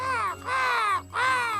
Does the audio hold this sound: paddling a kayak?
no